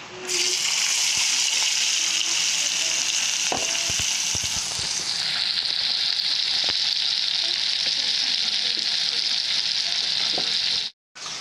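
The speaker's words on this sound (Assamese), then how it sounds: "মই ৰৈ যোৱা তেলখিনিতে এয়া কাটি থোৱা পিঁয়াজখিনি দি দিওঁ" Chopped onions dropped into leftover hot oil fry with a loud, dense sizzle, close and steady, with scattered clicks and scrapes of stirring before the sound cuts off briefly near the end.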